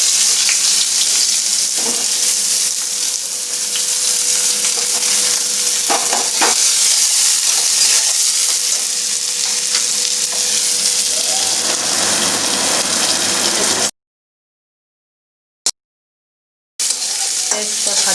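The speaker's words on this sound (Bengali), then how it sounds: "এবার আমি কুচানো পেঁয়াজটা দিয়ে দেব।" Chopped onions hit hot oil with cumin seeds and hiss in a loud, continuous sizzle with occasional stirring scrapes, then cut to brief silence near the end.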